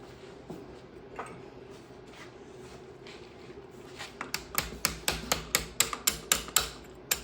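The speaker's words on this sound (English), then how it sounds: "Have a little rubber hammer there." A rubber hammer taps repeatedly while removing the distributor from a 1970 Triumph TR6 PI engine, the blows growing louder and quicker toward the end, close by over a low background hum.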